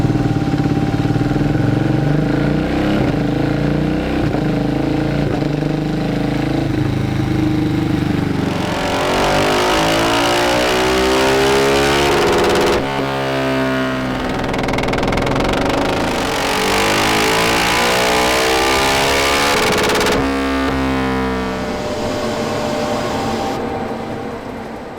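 A Husqvarna 701 motorcycle with a decat and stage 2 intake revs hard on a dyno, loud sustained engine roars sweeping up through the gears in repeated pulls, alone without talk.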